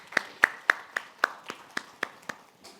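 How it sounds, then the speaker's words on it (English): Small audience clapping in a room during a talk, about ten distinct sharp claps in a steady rhythm, faint and slightly distant, without cheering. "a big round of applause"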